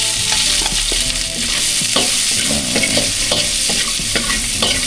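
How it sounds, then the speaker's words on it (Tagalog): Onion, ginger and garlic sautéing in oil in a large wok, a loud continuous sizzle with repeated clanking and scraping of a spatula stirring against the metal. "Igisa na natin itong ating sibuyas, luya, bawang."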